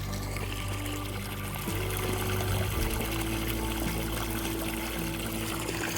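Water pours steadily into a horse's water trough for a gray mare, a continuous close trickling and splashing with a shift in tone partway through as the flow changes.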